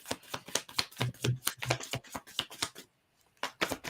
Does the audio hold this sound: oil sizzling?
no